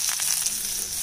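Onions, mustard seeds, urad dal, turmeric and chilli sizzling in a small amount of groundnut oil for a South Indian tempering, a steady close hiss and crackle of frying without any talk.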